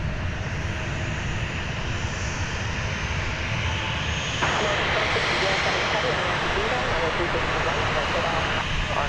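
An Airbus A321 jet airliner on the runway at DFW produces a loud, continuous engine roar that swells slightly midway, with talk faintly under it.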